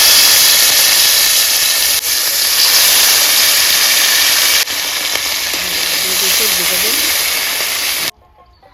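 Onion, dried chilli and green chilli paste sizzling in leftover oil from frying dried fish, a loud, steady hiss that runs without a break before cutting off abruptly, with faint voice-like tones in the middle.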